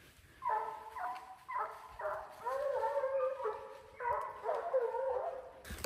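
Hunting dogs bark and bay in repeated close, loud bursts, mixing deep bawls with yips and whimpering cries during overnight camping and hunting.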